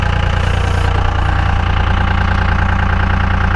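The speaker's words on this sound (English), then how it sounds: "That's that three-cylinder high idle." A VP44-pumped Cummins diesel engine running at high idle on only three cylinders, a steady loud droning rumble with an uneven, lumpy knock throughout and no voices.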